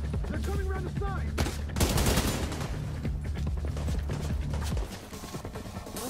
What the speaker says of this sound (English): Where the fuck am I being shot at?